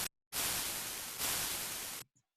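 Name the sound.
white noise crash layer on drums, synthesized in Ableton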